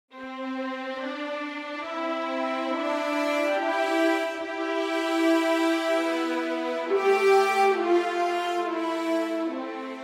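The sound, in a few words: orchestral theme melody with horn counter melody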